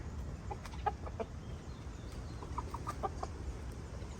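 Chickens clucking at dusk near a simple rural home, with scattered short clucks and soft calls coming in small bursts against a quiet outdoor background, moderately close.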